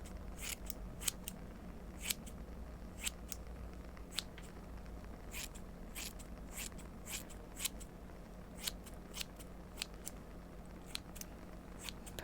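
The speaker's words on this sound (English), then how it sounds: "And now we snip off a little bit." Scissors snipping hair during a soft-spoken ASMR haircut, a long series of quick, close, delicate clicks in irregular bursts over a low steady room hum.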